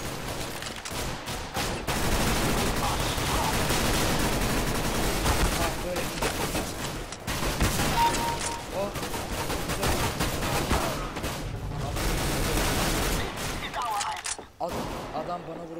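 Counter-Strike: Global Offensive gameplay brings dense, near-continuous bursts of automatic rifle fire and shots, loud throughout, with a voice talking over it.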